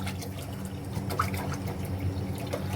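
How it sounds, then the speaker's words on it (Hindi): Water trickles into sugar in a cooking pan on a stove, a soft close dribbling over a steady low hum. "चीनी में पानी डाल दिया मैंने"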